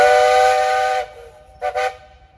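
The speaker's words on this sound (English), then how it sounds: "Hey, you got a whistle up there." Steam whistle on a 1918 Rumely Universal 20-horsepower antique tractor at a threshing show: one long, loud, tonal blast, then a brief double toot after a pause.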